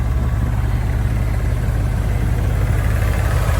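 A 1991 Dodge Ramcharger with a six-inch lift, its engine idling steadily at close range with a constant low rumble and slight vibration, no voices.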